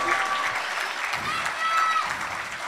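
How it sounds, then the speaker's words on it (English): A graduation audience at a Christian academy senior ceremony applauds in a dense, sustained wash of clapping at steady volume, with voices faintly audible beneath. "Give them a big round of applause."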